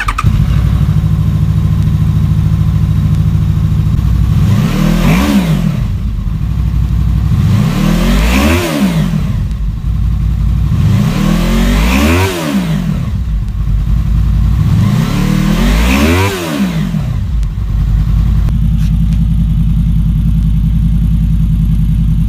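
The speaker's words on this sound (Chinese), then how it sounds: "听一下这一代发动机声浪。" A Honda VFR800F motorcycle's V4 engine idles steadily, then is blipped four times in evenly spaced revs, each rising sharply and falling back to idle, loud and close with no talking.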